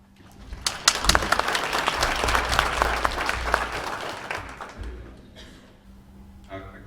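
An audience at a live comedy show claps together for a performer coming forward, a dense wash of hand claps swelling loudly, holding steady for several seconds, then thinning out and fading toward the end.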